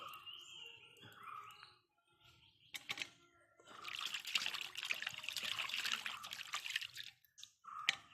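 Custard apples are rinsed in water, with soft splashing, trickling and dripping close by, quiet in short bursts and then a longer stretch of steady swishing.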